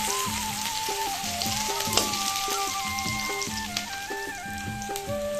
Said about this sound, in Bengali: যেহেতু মাছের আমার টক হবে, তাই জন্য হালকা ভেজে নিচ্ছি।